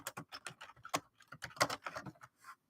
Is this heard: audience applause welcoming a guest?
no